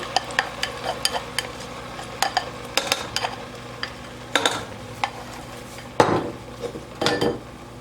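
A tomato, spice and onion mixture fries in a covered cooking pot, with a low steady sizzle beneath repeated clinks and scrapes of a metal spoon against the pot, heard close with no talking.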